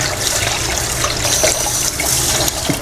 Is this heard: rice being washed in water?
yes